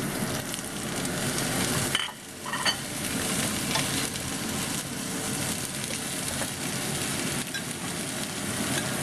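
Shrimp and cauliflower fry in a pan while being stirred, a loud and steady sizzle that runs throughout and dips briefly once, with the scrape of the stirring audible over it.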